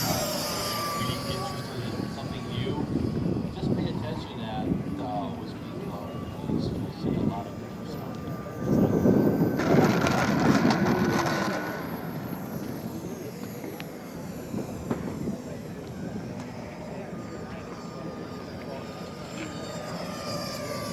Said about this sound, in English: Landing left to right again.